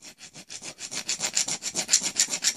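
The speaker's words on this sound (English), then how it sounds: "you face off a very small amount with the file" Metal file scraping a flat spot onto a steel ball bearing, with about fifteen rhythmic back-and-forth rasping strokes, close and fairly loud, and no talking.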